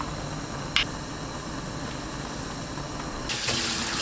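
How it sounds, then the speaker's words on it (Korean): Tap water runs in a steady hiss while blanched yam is rinsed in cold water, with a brief clink early on and the flow swelling louder toward the end. "찬물에 헹굽니다."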